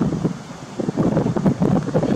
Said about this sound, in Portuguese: Eu não sei se o áudio vai sair tão legal porque tá ventando.